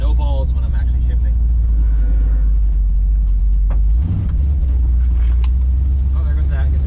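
A 1965 Ford Mustang with a 347 stroker small-block V8 idles loudly and steadily, a deep continuous rumble with a brief swell near the middle, while people talk over it.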